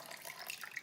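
Water splashes and trickles steadily while pay dirt is gold panned, a short, soft, continuous pour with no talk.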